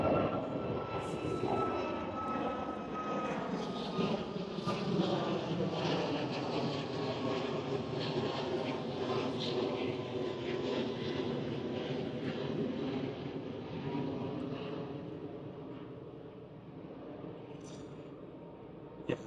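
A loud airplane engine roars overhead, its droning pitch gliding downward as it passes, then slowly fading away.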